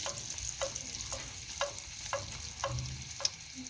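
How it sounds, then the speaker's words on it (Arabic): Beignet dough frying in hot oil, a steady close sizzle with a soft crackle about every half second, as if pieces are being dropped or turned. "نبدا نطيب في لي بيني ديالي."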